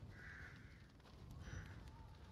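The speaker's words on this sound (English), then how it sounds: "Birds." Crows caw twice in Resident Evil Village, faint and distant over a low, steady ambient rumble.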